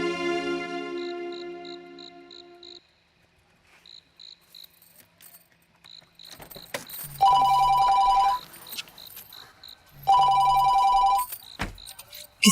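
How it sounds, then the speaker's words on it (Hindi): A telephone rings in two loud, steady bursts during an indoor drama scene, with quieter chirping tones and soft movement between the rings. "खुद ही घंटियां बज रही हैं, बंद करो फोन को।"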